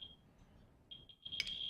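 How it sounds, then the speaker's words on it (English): A standard household smoke detector sounds a thin, high-pitched electronic beep: one long tone, then short repeated chirps and a louder burst near the end, alone in a quiet room. "This is a standard smoke detector."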